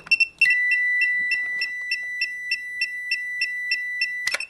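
An Ancel PB500 automotive circuit tester's beeper gives a steady, continuous high-pitched tone alongside a faster repeating beep from its probe, close and clear, ending with a brief clatter.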